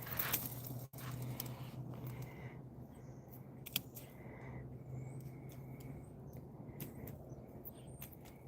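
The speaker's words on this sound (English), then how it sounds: "Just cut these seed pods off." Garden shears snip seed pods off garden plants, several quiet, sharp clicks scattered at irregular intervals, close up against a faint, low hum.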